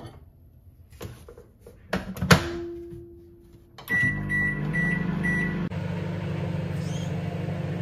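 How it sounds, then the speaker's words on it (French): A microwave oven heating a cup of coffee: a few clicks and a door thump, a run of beeps, then a steady loud hum as the oven starts up and runs. "je vais le mettre au micro-ondes et voilà."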